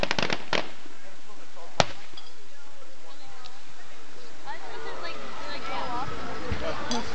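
A church fireworks show in 2008 pops and crackles outdoors, with sharp distant bangs and fizzing bursts while spectators chat throughout.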